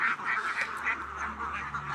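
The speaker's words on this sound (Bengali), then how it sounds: "আমাদের এই লটে প্রায় 1100-র মতো হাঁস আছে, আপনি এসে দেখে শুনে নিতে পারবেন।" A flock of Khaki Campbell ducks in a large farm lot, overlapping nasal quacks and honking calls at moderate distance, continuous and fairly faint with no talk.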